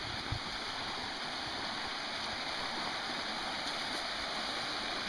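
Steady, fairly faint rush of stream water flowing over a backyard slope, an even broadband wash with no clear rhythm and no talk.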